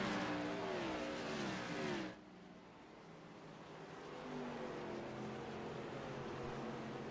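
Race cars in an iRacing sim race at USA International Speedway, a steady engine drone that drops abruptly after two seconds and then climbs again, continuous and moderately loud, with no talk.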